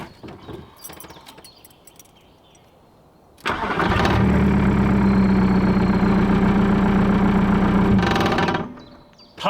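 Volkswagen Golf 2 TDI diesel engine cranking and catching instantly, then idling loudly with a rough, rattling clatter for several seconds before cutting off, recorded close up.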